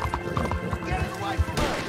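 A horse gallops in Red Dead Redemption 2, rhythmic hoof thuds close and steady, with a brief whinny-like burst near the end, while a person talks over it.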